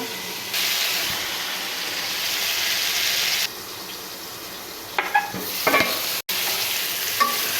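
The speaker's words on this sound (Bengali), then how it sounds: "এখন এটাকে আমি একটু নেড়ে কষিয়ে নিব কিছুক্ষণ এভাবে ঢেকে ঢেকে কষিয়ে নিব" Rohu fish curry with potato and pointed gourd sautéing in a pan, a loud close sizzle that drops when covered, followed by clattering stirs and a lid knock.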